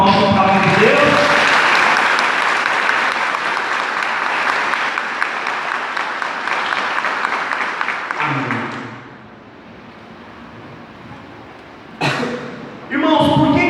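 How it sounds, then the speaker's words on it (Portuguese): Congregation in a church gives a sustained round of loud applause for the word of God, a dense clapping wash lasting about eight seconds before fading, then a quieter pause with brief voices and a few short bursts near the end. "Vamos dar a salva de palmas para a palavra de Deus."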